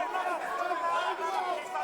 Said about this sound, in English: The crowd is going crazy for this fight.